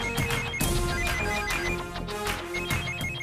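An incoming-call ringtone plays on a phone, a melodic electronic tune with repeating bright notes and regular pulses, loud and close, sounding alone without any talk.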